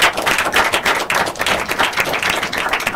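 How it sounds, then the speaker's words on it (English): A crowd at an inter-collegiate quiz and debate competition claps warmly, a loud, close, continuous burst of many hands with an uneven, rippling rhythm throughout. "Give her a round of applause"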